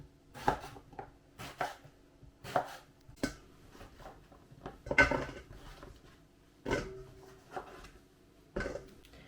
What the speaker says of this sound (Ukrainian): розріжемо баклажан ось так на половинку